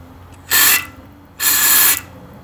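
Two bursts of aerosol carburetor cleaner sprayed into the main jet of a Honda CB550 carburetor: a short hiss followed by a longer one, both loud and close with no talking.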